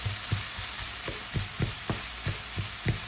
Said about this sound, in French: Je mélange bien l'ensemble tout en écrasant.